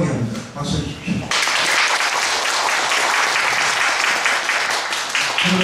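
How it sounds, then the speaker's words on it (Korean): Audience applause at a musical performance event breaks out loudly after a short stretch of speech and continues steadily, dense and close, to the end. "박수 주십시오"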